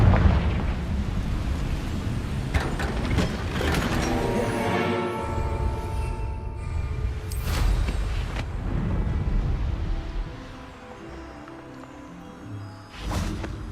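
A Confringo blasting spell in Hogwarts Legacy on PS5 sets off a string of booming explosions and fiery bursts, several heavy blasts with whooshing tails and rumbling decay, loud and close.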